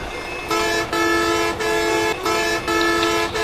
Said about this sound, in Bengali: হর্নটা একটু দিয়ে দেখে